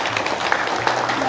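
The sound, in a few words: congregation applauding in church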